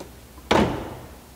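A vintage car door swinging shut, a single solid slam with a short metallic thud that quickly fades, heard close and alone.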